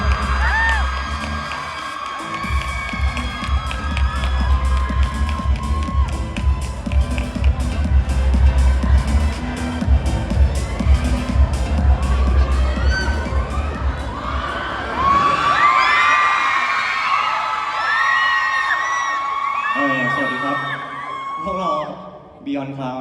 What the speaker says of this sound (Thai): ขอเสียงปรบมือดังอีกหนึ่งครั้งได้ไหมครับ